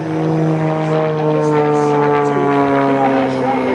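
A propeller aerobatic airplane flown by Tim Decker at the California Capitol Airshow drones loudly and steadily, its engine pitch shifting slightly as it pulls through a maneuver.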